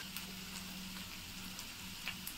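Egg pieces sizzle steadily in a pan with chili powder for egg curry, a soft continuous frying hiss with faint crackles and light pops, quiet and close, with no talking.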